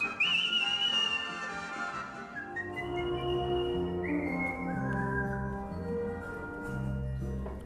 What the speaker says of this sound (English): Even the styles of whistling displayed were so distinct from each other.